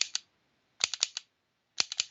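Dry-fire trigger pulls on an unloaded handgun in slow bursts with a reload between strings: sharp mechanical clicks in small spaced clusters separated by pauses, close and fairly quiet.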